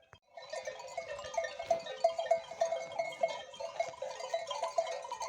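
A flock of sheep bleating over and over, calls overlapping at a moderate distance, steady and continuous with no talking.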